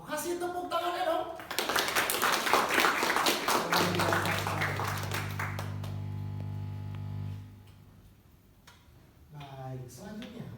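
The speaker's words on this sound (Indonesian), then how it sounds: "kasih tepuk tangannya dong" An audience at an Indonesian presentation claps for about three seconds in a brisk, moderately loud burst, and the clapping fades as a low sustained tone and then speech follow.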